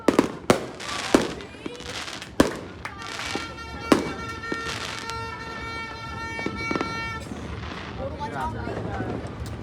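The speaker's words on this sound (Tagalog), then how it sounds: "Okay, kakakat lang pero may nagpaputok na naman." Fireworks and firecrackers go off at a New Year celebration, sharp loud bangs popping near and far with crackling bursts and a whistling rocket, over murmuring voices and crowd noise.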